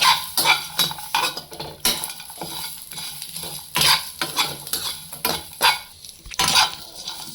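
Mutton is stirred with cashews and ginger in a pan, a spoon scraping and knocking in repeated strokes over a faint sizzle, close up and moderately loud.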